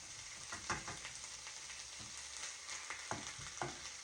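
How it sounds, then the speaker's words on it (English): Chicken fried rice fries in a pan with a faint, continuous sizzle broken by a few soft scraping stirs, quiet and close, no voices. "The rice is definitely frying."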